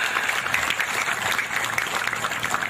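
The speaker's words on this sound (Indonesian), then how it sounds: "tepuk tangan." Dense, steady applause from an audience at an evening gathering, filling the space evenly without a break.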